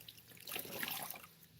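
Water trickling and splashing faintly as moss is set into water to soak for a foam-free fresh flower wreath, a soft close pour lasting about a second with no voices.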